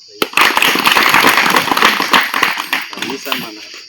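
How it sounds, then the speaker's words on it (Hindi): Audience clapping at a 'Mission Kamal Viksit' workshop in Badedongar mandal, Kondagaon: a dense, steady burst of many hands applauding together for about four seconds, fairly loud and close, with voices mixed in. "ताली बजा दो।"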